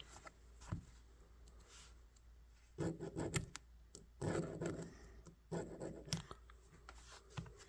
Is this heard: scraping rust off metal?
yes